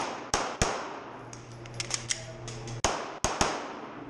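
Pistol shots at a shooting competition stage ring out as sharp, close cracks, a quick pair near the start and more spaced bursts later, with lighter clicks and metallic ticks between them.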